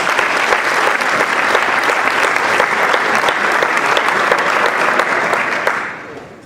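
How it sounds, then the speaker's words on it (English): A large audience at a Coaches for Cancer event gives the two hosts a loud, dense round of applause that holds steady and then fades quickly at the end. "a round of applause for host number one, host number two, Braden and Jason"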